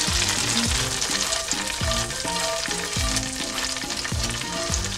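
Browned onions frying hard in hot oil for a tempering in chicken haleem, a loud continuous sizzle with spatter and repeated scraping stirs, no voices.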